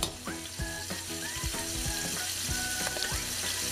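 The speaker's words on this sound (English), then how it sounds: "I saute about 10 ounces of salmon that I cut it into strips" Fresh, never-frozen salmon strips, about ten ounces, sauté in a hot pan with a steady sizzle, broken by repeated clinks and scrapes of a utensil; no one speaks.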